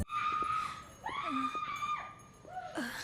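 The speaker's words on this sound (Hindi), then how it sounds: "इन्हें कुछ लड़कियों की चिल्लाने की आवाज सुनाई देती है" Girls scream in a horror film set at an isolated motel, a series of shrill, wavering cries that rise and fall over about three seconds, loud and close with no talk.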